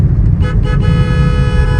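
A car horn toots in busy city traffic in Kolkata, several short honks near the start over a loud, constant rumble of engines and road noise.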